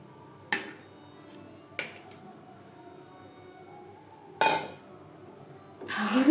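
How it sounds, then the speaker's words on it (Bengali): Chhana being stirred into boiling milk in a pot for payesh, heard as a few sparse metallic clinks of a spoon against the pot with quiet gaps between, ending in a louder scrape. "দুধের সাথে ছানা বেশ ভালো করে মিক্সড করে দেব।"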